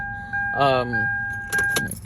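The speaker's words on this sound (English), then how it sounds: "Take the keys out." Keys jangle briefly as they are pulled from the ignition of a 2001 Toyota 4Runner, a short close metallic clatter set against a steady electronic tone and a voice.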